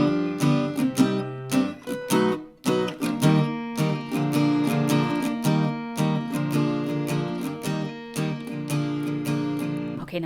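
An acoustic guitar plays the intro to a song solo, with strummed chords and picked notes in a bouncy, steady rhythm, close and clear, with no talking.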